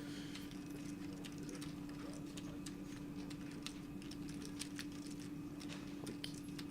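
Air conditioning in a chilly back-room commentary booth at a poker event hums low and steady throughout, faint and unbroken, with scattered light ticks and clicks over it.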